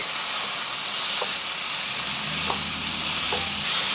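Lean ground beef, about 1.5 pounds, fries in a pan for a bulgogi rice bowl, giving a steady, fairly loud sizzle with a few soft scraping clicks of stirring and no talking.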